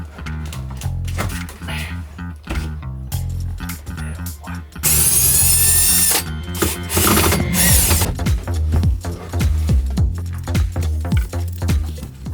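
A drill bores holes into a DIY yacht to fit an autopilot, with a loud, whining burst lasting about three seconds mid-clip over a rhythmic background.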